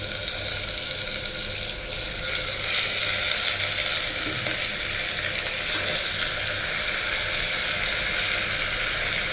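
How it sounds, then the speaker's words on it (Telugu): Mutton sizzles and fries in sesame oil in a pan, a loud, close, continuous crackle and hiss that runs throughout without a break, with no talking. "ఇదిగోండి మటన్, మటన్ వేస్తున్నాను చూడండి."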